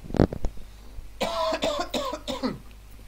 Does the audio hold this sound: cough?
yes